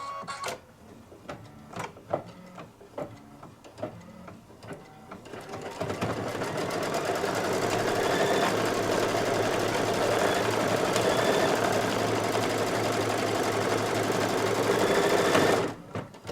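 An embroidery machine runs a tack down stitch on a Santa table runner, starting with a few sharp isolated clicks and then settling into a steady, loud, continuous mechanical whir that holds for about ten seconds before stopping abruptly.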